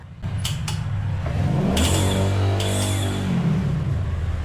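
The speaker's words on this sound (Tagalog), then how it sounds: "napagana ko na at napaikot ang kanyang starter motor" A car's starter motor spinning after repair, then the engine catching and running with a rising rev and a steady idle hum, loud and close, no talking.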